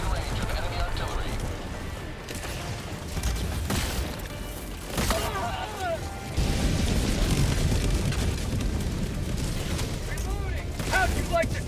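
Enemy artillery and gunfire in Helldivers 2 play as dense layered booms, crackling shots and rumbling blasts under a constant busy battle din, with a voice speaking over it.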